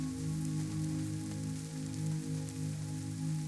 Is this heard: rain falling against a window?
yes